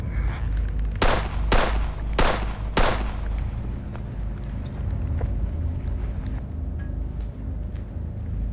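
Four sharp gunshots crack close together early in a film shootout, then a low rumbling background carries on. No one speaks.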